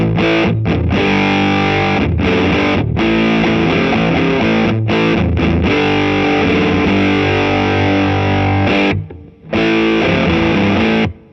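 Electric guitar played through the fuzz effect of a Sonicake Pocket Master multi-effects unit, loud, thick and saturated, with sustained distorted chords broken by brief stops and a short silence near the end, and no talking.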